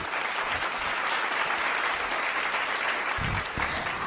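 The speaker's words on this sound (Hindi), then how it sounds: "एक जोरदार तालियों से इन सब अतिथिगण का हम स्वागत करते हैं" Continuous clapping from a crowd welcoming guests at a Hindi poetry recital, even and sustained throughout, moderately loud with no voices over it.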